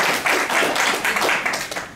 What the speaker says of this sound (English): Thank you for a round of applause.